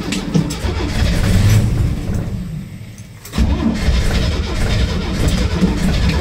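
An old yellow Chevrolet stovebolt pickup truck is cold-started at about 14 degrees after sitting for a day. The starter cranks loudly and steadily, drops away briefly, then cranks again, close and harsh with no clear catch.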